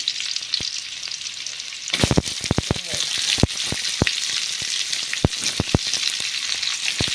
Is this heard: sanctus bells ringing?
no